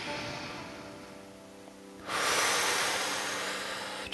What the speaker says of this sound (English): Take a breath with me, a really big one, a big belly breath